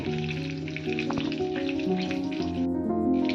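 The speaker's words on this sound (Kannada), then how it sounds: "ಮೀನು ಫ್ರೈ ಮಾಡ್ತಾ ಇದ್ದೀನಿ" Mackerel (bangde) fish frying in a hot pan of oil, a steady loud sizzle with crackling pops throughout, over soft background music and no talking.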